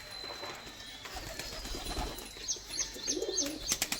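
Domestic pigeons coo softly in a home loft where one bird has a broken leg, with a few short calls and light rustling later on, all fairly close and moderate in level.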